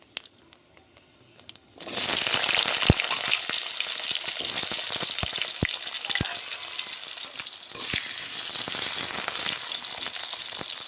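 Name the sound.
potatoes frying in a kadai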